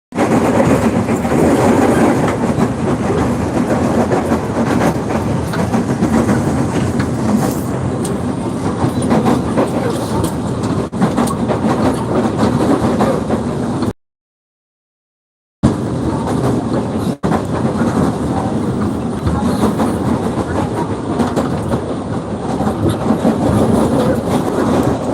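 A KRL commuter train running on rails in Jakarta, a loud continuous rumble with rhythmic clickety-clack, heard from inside the car, with a brief total silence partway through.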